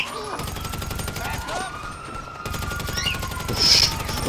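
Rapid automatic gunfire in GTA 5 Online, a dense rattling stream of shots running through most of the moment with a short break, alongside game engine hum and a voice talking.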